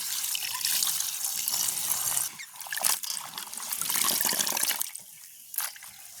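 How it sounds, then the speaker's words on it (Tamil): Cut mushrooms being rinsed by hand in water, splashing and trickling in bursts with brief pauses as the pieces are swished and lifted, close and fairly loud. "இனி ஒருக்கா கழுவி எடுப்பேன்"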